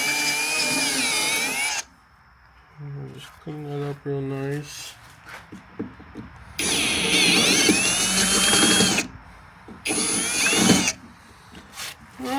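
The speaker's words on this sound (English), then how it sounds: "We're going to move up to our bigger drill bit." A power drill with a larger bit, following a pilot hole, whines loudly in two long bursts while drilling into a Ford Bronco's rear trunk door, broken up by a man's quiet speech and a few clicks and knocks between them.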